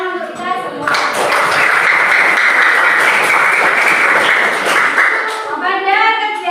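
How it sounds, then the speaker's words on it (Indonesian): A school class breaks into loud, sustained group applause lasting about five seconds, with a voice speaking just before and after the clapping. "Kasih tepuk tangan untuk kita semua."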